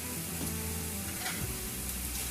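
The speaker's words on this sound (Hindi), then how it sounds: "अच्छे से हम फ्राई करेंगे प्याज को जब तक इसका कलर अच्छा सा गोल्डन ब्राउन नहीं हो जाता" Onions sizzle in hot oil in a pan alongside whole red chillies for a restaurant-style mixed vegetable dish. The frying hiss is loud, dense and continuous, heard close up and alone.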